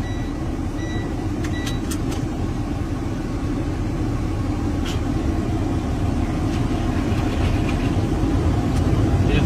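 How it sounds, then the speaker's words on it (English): A 2015 Freightliner truck with a Cummins engine and 10-speed transmission idles with a steady low diesel rumble, heard from the cab, with a few faint clicks and small sounds over it. "Here's a 2015 Freightliner with the Cummins engine and a 10-speed transmission."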